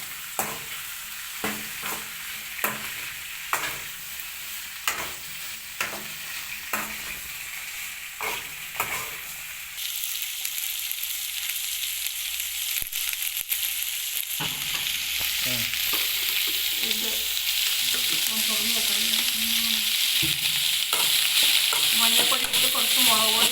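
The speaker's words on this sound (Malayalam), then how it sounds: "മഞ്ഞപ്പൊടി ഇട്ട് കുറച്ച് മുളക് പൊടി ഇട്ട് ഇളക്കുക." Vegetables stirred in a frying pan with turmeric and chili powder: a run of sharp spoon scrapes and clacks, then a loud, steady sizzle that swells and fills the rest of the stretch, with no voices.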